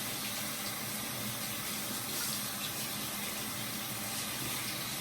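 Tap water runs steadily into a sink while a cloth mask dyed with food coloring is rinsed, a continuous close splashing hiss with no voices.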